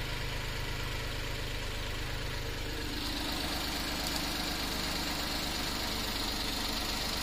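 A Suzuki DA64 minivan engine with a misfire and bad coil pack idles steadily, its raised revs settling lower, a continuous close mechanical hum with no talk.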